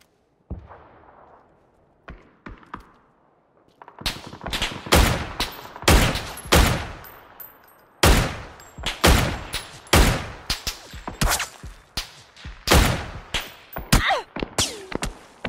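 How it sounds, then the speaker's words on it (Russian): Gunfire in a PUBG match comes as rapid, loud bursts of shots in quick volleys. The firing grows denser after a few scattered early pops. "Стрельба"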